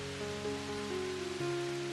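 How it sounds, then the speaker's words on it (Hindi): Cartoon storm rain pours in a steady, even hiss under a sustained musical drone, with no voices. "बारिश रुकने का नाम नहीं ले रही थी"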